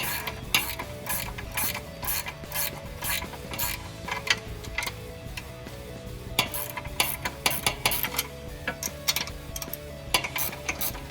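A ratchet wrench clicks in quick repeated bursts while tightening a bolt on a DV8 Offroad rear differential skid plate on a Jeep Wrangler JL, with steady mechanical ticking up close.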